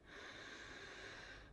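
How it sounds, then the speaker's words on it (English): A long, steady inhale of lavender essential oil cupped in the hands, close and continuous for about a second and a half with a soft airy hiss, no talking. "And then you inhale"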